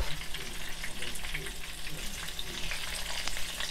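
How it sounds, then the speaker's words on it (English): Stuffed flying fish fry in a saucepan, giving a steady, close crackling sizzle with bright spatter and occasional pops that holds evenly throughout, with no voices. "we're going to fry these"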